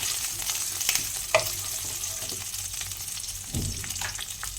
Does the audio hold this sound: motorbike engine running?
no